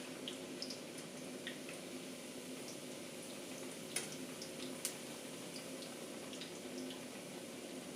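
Churros frying in a pan of hot oil, a steady soft sizzling hiss with faint bubbling and a couple of small pops, close and continuous with no talking.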